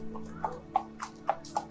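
Hooves of a horse pulling a carriage clip-clop in an even, regular rhythm, about four distinct fairly quiet strikes over a low steady hum.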